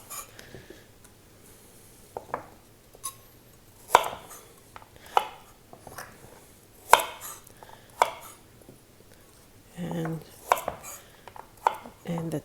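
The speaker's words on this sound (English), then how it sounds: "for each carrot, I take off the root and the tip, and they go into this vegetable scrap pile" Knife trimming the roots and tips off carrots on a cutting board, sparse sharp chops and taps at irregular intervals with quiet scraping between them and a brief cluster of quicker cuts near the end.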